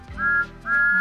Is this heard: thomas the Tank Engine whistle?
yes